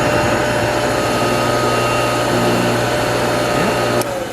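New motor on a Sunnen CRG 750 connecting rod grinder runs with a loud, steady whirring hum and buzzing tones, then dips slightly near the end as if switched off.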